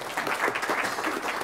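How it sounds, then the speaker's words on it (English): An audience at a hackathon results session of a user conference claps again, a short burst of dense, moderately close applause with no talking over it. "clap again"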